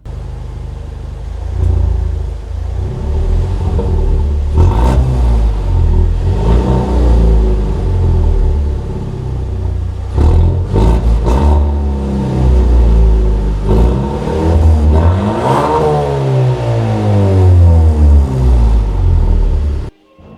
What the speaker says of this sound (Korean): 마지막에 제가 쿠키 영상으로 제 배기음 소리를 한번 들려드리고